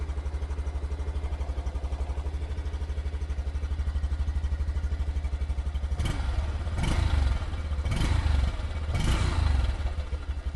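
A fuel-injected Honda Cub motorcycle engine idles with a steady, rapid putter, then several short throttle blips rise and fall; no one speaks.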